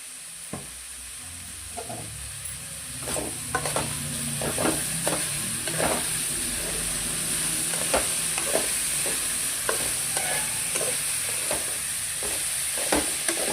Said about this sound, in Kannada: ಸ್ವಲ್ಪ ಎಣ್ಣೆ ಹಾಕಿ ಹೊಂಬಣ್ಣ ಬರೋವರೆಗೂ ಹುರಿಯೋಣ